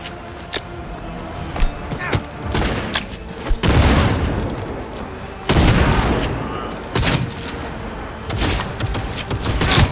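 Rapid bursts of gunfire in a Cyberpunk 2077 firefight, loud and close, with sharp shots and heavy booms layered over dense ongoing battle noise and rumble.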